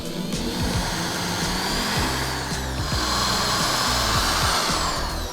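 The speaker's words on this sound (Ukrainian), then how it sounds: "Поруч із напрямною гарпуна свердлимо два невеликі отвори." A power drill bores two small holes into a homemade speargun body beside the harpoon guide, a steady continuous whir filling the clip with a low mechanical rattle underneath, close and fairly loud, no voices.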